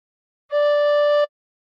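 A tin whistle sounds one note with fingers covering holes 1 to 5, blown a little harder: a bright, steady tone that holds for about three-quarters of a second, clean and isolated.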